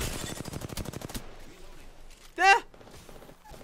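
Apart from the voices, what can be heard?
gunfire from the video game Apex Legends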